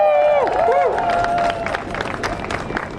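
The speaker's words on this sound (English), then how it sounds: "Let's give them a round of applause." Applause and cheering from a crowd at an outdoor rally in Foley Square, Manhattan, loud at first with a whistle-like tone and voices, then settling into steadier clapping.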